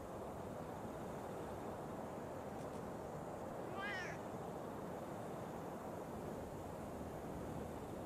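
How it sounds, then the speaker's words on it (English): A cat taxi in a video game gives a single brief meow partway through, fairly clear over a steady wash of wind- or surf-like ambience that fills the whole stretch. "Oh man, the cat taxis."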